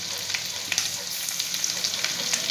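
Ginger and garlic sizzle in hot oil with browned cumin in a pan, a steady close hiss of frying with small crackles and pops throughout, no voices.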